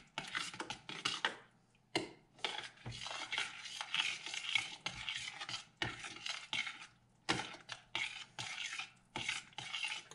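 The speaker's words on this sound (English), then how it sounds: "keep stirring it around" A spoon stirring chilli in a pot, heard close up as repeated scraping and clinking strokes in short bursts with brief pauses between.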